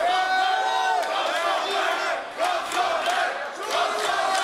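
An MMA arena crowd at a Roskilde fight gala stands and cheers, a loud, sustained roar of many voices with rhythmic chant-like swells that dip briefly before rising again.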